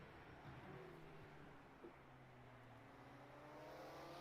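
Race car engine in the rFactor 2 racing game at Targa Florio, a faint, steady drone with sustained tonal whine that shifts gradually in pitch as revs change.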